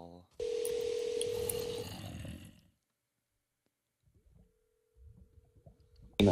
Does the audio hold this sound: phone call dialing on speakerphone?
yes